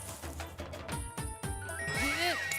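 A phone ringtone chimes with a bright, tinkling melody, rising over a few soft spoken words in a quiet room.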